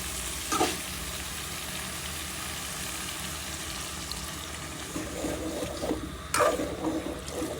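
Water poured into a pan of Bengali-style fish egg curry sets off a steady, close sizzle, with brief louder splashes and stirring clatter near the start and again toward the end.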